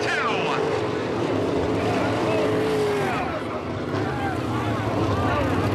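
Sprint car racing on a track, with engines roaring continuously as a car flips and gets airborne off the high side of a turn, heard under a race announcer's commentary.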